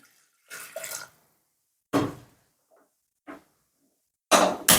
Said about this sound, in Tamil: கொஞ்சம் தண்ணி ஊற்றுறோம்.